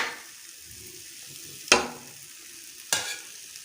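Qeema frying in a pan with a boiled egg mixed in: a soft, steady sizzle broken by two sharp clanks of a spoon stirring against the pan.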